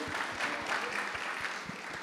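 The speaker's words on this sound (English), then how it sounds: "Give them a round of applause" An audience at a business talk applauds in a dense, even burst of clapping, sustained and fairly close for about two seconds.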